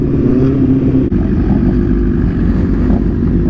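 Several motorcycles on a group ride run loud and close in a steady, dense engine roar, with a brief dip at about a second before the rumble resumes, the kind of revving that comes with riders pulling wheelies.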